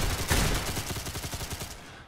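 Rapid bursts of gunfire from a .22 pistol in a Roblox gun game, a fast string of sharp repeated shots at a steady rhythm, loud and close with no talk.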